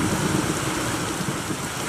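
Steady rain falls in the Minecraft video game, a dense, even hiss of drops with no pauses, alone and fairly loud throughout.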